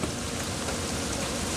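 Heavy pouring rain roars steadily and densely with no pauses, a constant wash of close drumming on surfaces, loud and alone with no voices.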